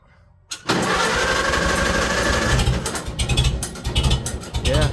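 Small engine on a plowing tractor catches and runs steadily after a choke adjustment, a loud continuous mechanical clatter with some rattling variation, starting abruptly after a brief quiet moment.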